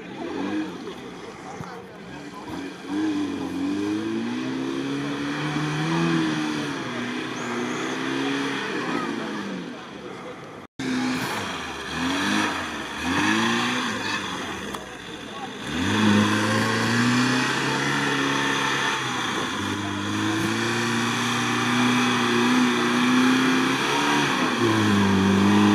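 A stock Lada Niva engine revs and strains continuously while driving off-road through deep sand, pitch rising and falling with throttle, loud and close, with a brief cut midway.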